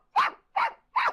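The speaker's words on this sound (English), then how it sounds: "Look at my dog, Greek." A dog barks three times in an even rhythm, with short sharp barks that are fairly loud and close, and no voices around them.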